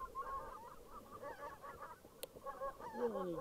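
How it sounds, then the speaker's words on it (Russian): Several geese honk in a scattered chorus during a spring goose hunt in Belarus, fairly distant and soft, with a burst of louder honks near the end. "Они кругом, кругом гуси."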